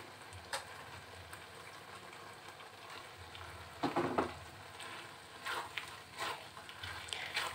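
Cabai gendot chilies, tomato and scallions sautéing in a pan, a steady soft hiss of frying with occasional stirring scrapes and knocks, close but quiet.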